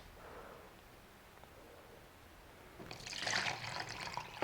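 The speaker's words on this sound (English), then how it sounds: "pour my water into that." Water is poured from one container into an empty graduated cup, a soft bubbling splash that swells in the last second and a half after a quiet lead-in.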